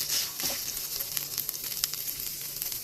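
Butter melts and sizzles in a pan while turkey sausage cooks for spaghetti, giving a continuous bright crackling hiss with small pops, close and fairly quiet.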